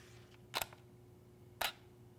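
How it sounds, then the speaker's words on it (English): Camera shutter on a 1 second exposure: a crisp click opening the shutter, about a second of quiet room hum, then a second click closing it, close and soft. "You can hear how long the shutter is actually open."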